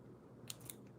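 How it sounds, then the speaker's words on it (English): Ribbon snips cut excess ribbon on a handmade Stampin' Up! balloon graduation card, two quick, crisp little snips close by against a quiet room. "using my ribbon snips, I'm just going to cut off a little bit of this excess"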